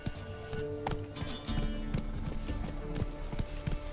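Horse hooves clip-clop steadily while riding in The Witcher 3: Wild Hunt, a continuous rhythmic trot close up over a dense game soundscape with low rumbles and no talk.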